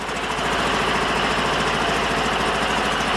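A Sears Suburban loader's 20hp Briggs V-twin engine running steadily, loud and close, with a rough, evenly pulsing throb and no talk, its choke not working.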